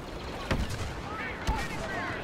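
Grenade blasts in the Star Wars Battlefront video game, two dull booms about a second apart over steady game noise, while players chatter in the background.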